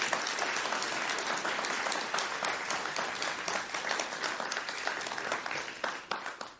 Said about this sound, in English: Round of applause, please, for Dome Sweet Dome.